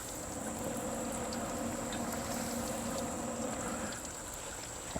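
Green tomatoes fry in hot oil, giving a steady, moderately quiet sizzle and bubbling hiss that carries on evenly before easing slightly near the end.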